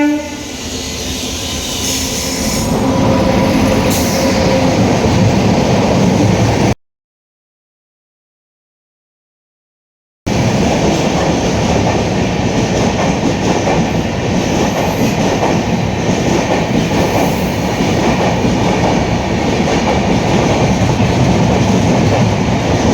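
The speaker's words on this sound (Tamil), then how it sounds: "ஒரு ட்ரெயின் ஒன்று கிராஸ் ஆச்சு." A train passes close by on a journey from Chennai toward Andhra Pradesh, loud rumbling and clattering wheels with a horn, continuous apart from a short silent gap, no talking.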